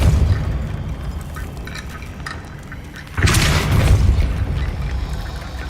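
In the video game Hogwarts Legacy, a Depulso spell is cast, a sudden loud whooshing boom that bursts in and then sustains as a low rumbling blast for a couple of seconds over steady game background noise.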